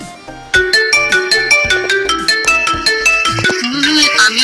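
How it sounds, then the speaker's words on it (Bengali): A custom Bengali name ringtone played from a phone: a bright, rhythmic electronic melody with regular plucked-style notes, loud and close, with no talk. "খুবই চমৎকার আমার নামের কাছে রিংটোন তৈরি হয়ে গেল।"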